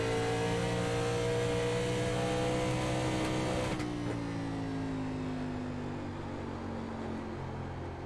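Race car engines from a NASCAR Legends 1987 iRacing race at Phoenix Raceway, a loud sustained drone of several engines, one pitch sliding down as a car passes, steady and close.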